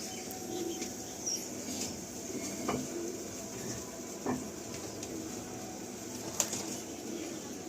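Pigeons in a loft give soft, intermittent cooing amid low background bustle and occasional faint wing flutters, moderately near with no one speaking.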